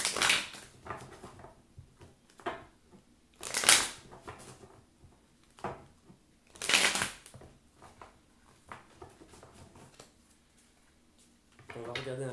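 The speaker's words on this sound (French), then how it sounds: "Je vais poser quelques cartes du voyageur sacré." Oracle cards from a sacred traveler deck being shuffled and laid out: soft, close riffling and brushing bursts come in a few short spurts, with light handling sounds and faint voice in between.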